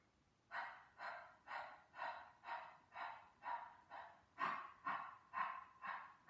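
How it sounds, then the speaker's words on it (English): Breathing in a Pilates posture workout comes as eleven even, close, breathy exhales in a steady rhythm of about one every half second, with no talking between them. "normal inhale and exhale. Round 3, inhale."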